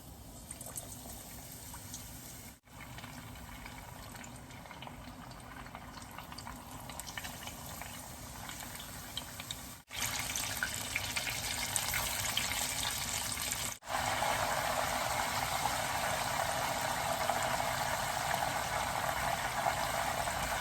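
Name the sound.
banana fritters frying in boiling oil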